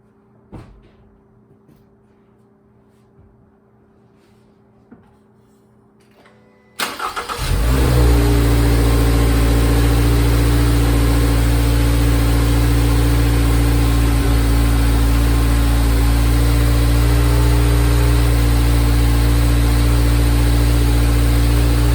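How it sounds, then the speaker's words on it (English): After a quiet stretch with a few small clicks, a 2023 Toyota GR86 fitted with a cold air intake cranks and catches, then settles into a loud, steady idle that continues to the end. "Let's hear how it sounds when I start the car up."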